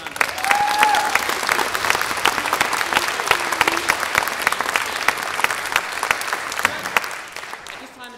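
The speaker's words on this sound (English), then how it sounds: "So let's give them a round of applause." Audience applauding musicians after a performance of a Serenade in G major: dense, steady clapping at close range running for about seven seconds, then thinning and fading at the end.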